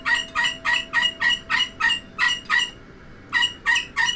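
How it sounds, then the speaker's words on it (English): A pet bird squawking loudly and rhythmically, about a dozen harsh, evenly spaced calls close to the microphone with one brief pause, heard alone over a faint steady hum. "The bird's going ballistic, as you can hear her quite clearly."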